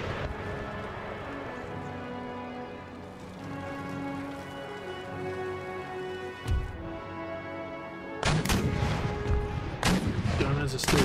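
Artillery guns fire across an Empire: Total War battlefield, a steady crackle of distant shots that swells into a loud, dense barrage near the end.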